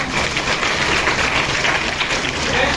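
A continuous wash of group clapping fills a hall at a women's helpline awareness event in Jhansi, even and moderately loud throughout, with no clear talking.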